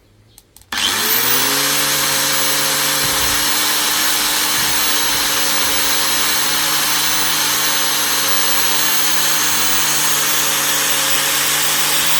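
An angle grinder spins up abruptly after a brief quiet moment and then runs at a steady, loud, high-pitched whine with constant tone during a household appliance wattmeter power-consumption test.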